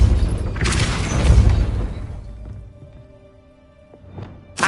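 Depulso spell cast in Hogwarts Legacy: a loud booming whoosh with a deep thud swells over the first two seconds, then fades to a quiet hum before a short sharp burst at the very end.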